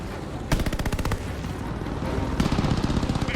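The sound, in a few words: machine gun fire in video game Call of Duty Vanguard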